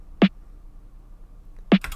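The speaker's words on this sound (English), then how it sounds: "it's a very muddy snare" Two dull, thuddy snare hits spaced well apart, low and muffled with little snap, over a faint background hum.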